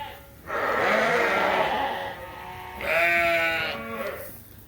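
Ewes bleating on a farm ahead of shearing, two long drawn-out calls close by, the second starting just before the three-second mark, with no talk over them.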